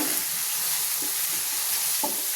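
Garlic frying with onion in a pan for a Bengali tengra fish curry, a steady close sizzle with light stirring scrapes and no talking.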